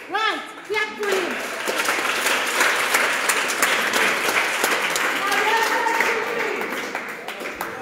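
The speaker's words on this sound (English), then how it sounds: "Right, clap for him." An audience bursts into dense, lively clapping for a child in a classroom-style session, loud and sustained after a voice speaks at the start, with voices rising again over the clapping near the end.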